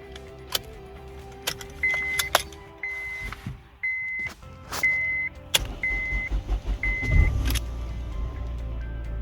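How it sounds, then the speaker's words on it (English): A 2004 Honda Civic EU9 with a 1.7 CDTi diesel engine goes through several cranks before it fires. Regular short electronic tones and clicks come first, then a low, rising rumble as the engine catches near the end. "This car's always taken sort of several cranks to start, but it's always started reliably, so this was it starting as normal."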